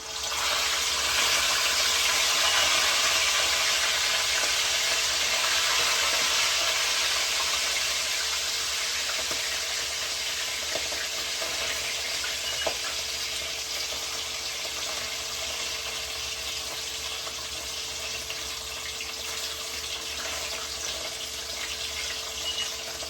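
Pompano fish head soup boiling in a pan, a steady broadband bubbling and hiss that holds evenly close by, with a few faint clinks near the middle.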